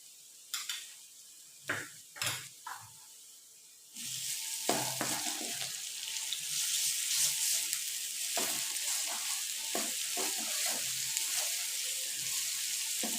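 Steady loud sizzling of garlic frying in a pan with browned onions, with a few clinks and stirring scrapes at the start before the sizzle swells and continues.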